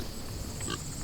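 A pig gives a short, low grunt, close and fairly faint, over steady background noise.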